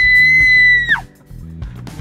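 A person screams at full voice as a dare in a public spot with onlookers nearby: one loud, sustained high-pitched shriek lasting almost a second that drops sharply in pitch at the end, followed by quieter background sound.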